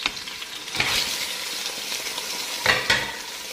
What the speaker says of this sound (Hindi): चिकन को अच्छी तरह से फ्राई करें।